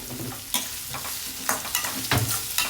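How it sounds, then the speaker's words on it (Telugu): Curry leaves and vegetables frying in a pan, with a steady close sizzle and repeated scraping stirs of a spatula against the pan throughout. "ఇది మెత్తబడేదాకా వేయించుకుందాము"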